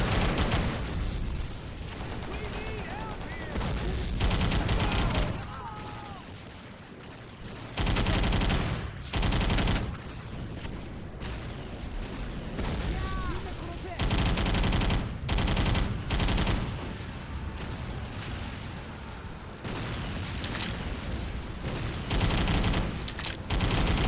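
Video-game gunfire crackles in repeated bursts of rapid automatic shots and fusillades, loud and close, with brief pauses between volleys and no talking.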